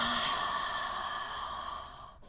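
A single deep, slow exhale during yoga breathing, a soft airy sigh that starts full and fades gently over about two seconds, with no talking.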